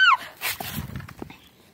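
A pet dog called "the Savage" lets out a short, sharp yelp or bark right at the start, then quieter scuffling and rustling follow, close to the recorder.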